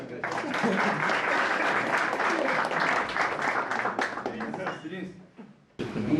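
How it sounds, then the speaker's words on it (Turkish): Applause from football players visiting their club president in an indoor room: several seconds of dense, close clapping that trails off, then a brief burst returns, with voices mixed in. "Bir alkış"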